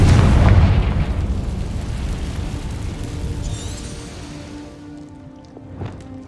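A Confringo spell blast in Hogwarts Legacy booms loudly at the start, then rumbles and fades over several seconds, with a small pop near the end.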